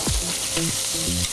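Halved prawns fry in olive oil in a pan with a steady, close sizzle. Brief tonal scrapes and clinks from a utensil are heard against the pan.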